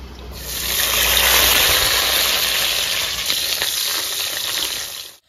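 Ginger and garlic dropped into hot mustard oil in a kadai, a loud close sizzle that swells quickly and holds steady before cutting off.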